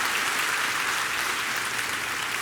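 A church congregation applauds together, a steady, dense wash of hand claps filling the space evenly from start to finish with no voices over it.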